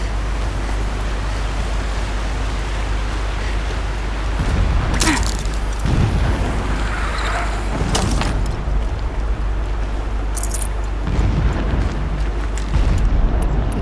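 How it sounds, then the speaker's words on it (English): Deep, muffled video game explosions boom from far off in Horizon Zero Dawn, a few of them spread across a steady low rumble, with no voices present. "Explosions in the distance."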